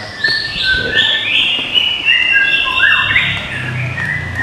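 A white-rumped shama sings loud, varied whistling phrases with chirps and trills, continuous and close, over a low background rumble.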